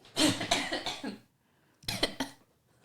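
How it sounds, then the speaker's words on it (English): Two harsh, nearby coughing bursts, the first a longer string of hacks, then a brief pause before a shorter second fit. "I'm going to cough."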